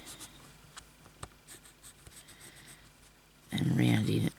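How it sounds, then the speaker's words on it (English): A small pencil scratches softly as it traces around a circle on fabric during slow stitching. The faint scratching goes on for a few seconds before a voice starts talking. "So now I'm going to draw around the outside with my little pencil, hopefully."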